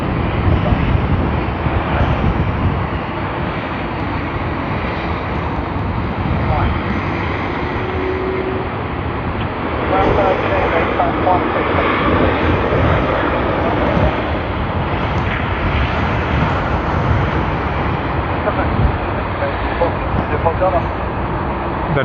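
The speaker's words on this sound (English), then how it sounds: "That is Fiji Airways FJ911 on the Airbus A350-900." A Fiji Airways Airbus A350-900 jet takes off at Sydney Airport, a loud, sustained broadband engine roar that holds steady for about twenty seconds, with a voice talking over it.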